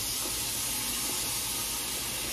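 Water pours steadily into a pot of soaked, rinsed red beans in a home kitchen, a continuous close splashing hiss with no talk throughout.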